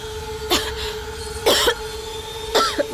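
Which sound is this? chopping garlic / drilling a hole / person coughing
person coughing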